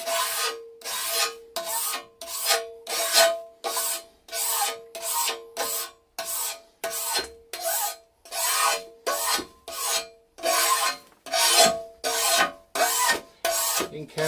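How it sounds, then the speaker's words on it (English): A scraper rasps dried Bullseye primer off a kiln shelf in even, repeated strokes, about two per second, each a loud close grating scrape separated by brief pauses. "So the scraper just takes all of that off nice and evenly."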